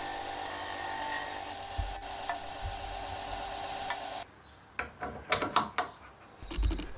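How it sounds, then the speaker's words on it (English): A power sander grinding a scrap wooden block, a steady rough whir that cuts off partway through, followed by a series of scattered knocks and scrapes as the wood is handled. "So I'll take this over to the sander now and just sand it down to that line."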